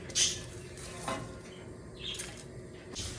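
Spatula tongs flip pork cutlets in an oiled frying pan, producing a few soft metallic clinks and scrapes over a faint, low sizzle.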